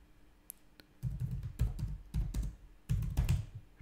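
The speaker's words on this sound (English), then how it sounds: "Okay, we have to type it again." Keys clicking on a computer keyboard in a run of quick, fairly close taps, coming in short bursts with brief pauses between them, no voices present.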